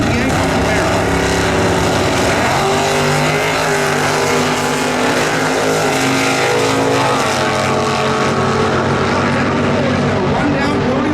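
Drag race cars, including a 1969 Yankee Camaro in A automatic class, roar loudly at an NHRA Sonoma sportsman eliminations run, a dense, sustained engine blast with crowd and track noise mixed in.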